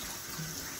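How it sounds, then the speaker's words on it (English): Tap water runs into a kitchen sink as it fills for rinsing wild muscadine grapes, a faint, continuous hiss and splash with no pauses. "We'll fill this side of the sink up with water."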